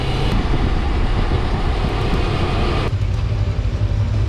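A motorcycle rides along a road in Hainan, with loud continuous engine rumble and wind noise up close, easing slightly partway through.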